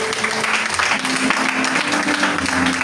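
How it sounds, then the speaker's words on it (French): Church congregation applauding and cheering for Jesus, a dense, steady burst of clapping filling the room with no pause. "Est-ce qu'on peut acclamer ce Jésus?"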